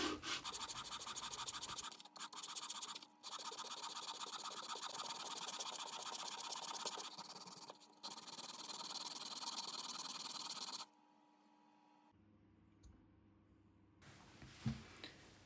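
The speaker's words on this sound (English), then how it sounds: "And a lot more sanding." Sanding on small wooden jewelry box drawers made on a bandsaw: a steady, close, harsh buzzing hum with short breaks runs for about ten seconds, then gives way to quieter handling noises and a faint tone.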